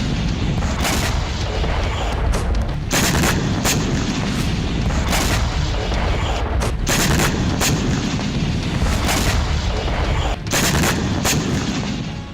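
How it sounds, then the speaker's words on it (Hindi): Rockets from a Hezbollah attack on Haifa strike an urban area, a rapid series of loud, sharp booms and bangs repeating irregularly over a constant roaring background, close and intense throughout without speech. "जहां हिजबुल्लाह ने बड़ा रॉकेट हमला किया।"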